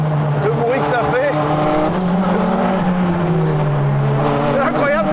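Race car engine roaring loudly and continuously while drifting, its pitch rising and falling with throttle, with tire squeal and a voice speaking over it throughout.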